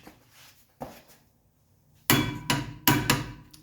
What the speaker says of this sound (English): now I need to get the torque wrench and torque those down